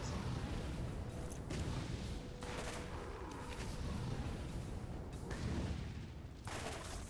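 Dense, continuous rumbling gunfire and explosive booms from grenade-heavy combat in the video game Borderlands, a steady loud barrage with bursts layered over one another throughout.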